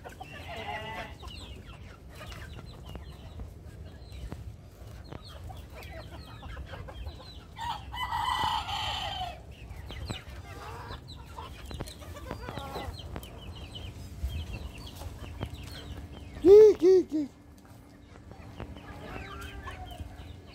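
Free-roaming backyard chickens cluck continuously while a rooster crows loudly and close by near the end, with no one speaking.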